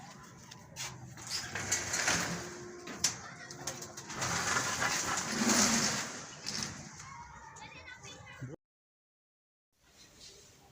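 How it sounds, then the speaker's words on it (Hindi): Pigeons coo steadily inside a large home-built pigeon loft kept by a pigeon fancier, a dense murmur of birds with faint rustling throughout, briefly cutting to silence near the end before soft sounds resume. "यह है मलक आफ्ताब का कबूतरों का जाला।"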